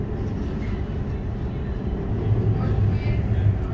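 An Arriva Rail London class 710 train hums and rumbles steadily at Edmonton Green station, a low continuous drone from the carriage, heard at close range.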